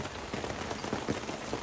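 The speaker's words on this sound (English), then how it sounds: "So just waiting out this rain" Rain falls steadily on surfaces around a truck and RV parked on a concrete pad in Osceola, Florida, a dense close patter of drops with no voices.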